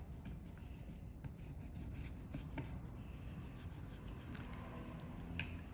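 A knife scores and scrapes along raw pork bones to loosen the meat, giving a steady close-up rasping and rubbing texture with a few sharper scratchy strokes and no talking.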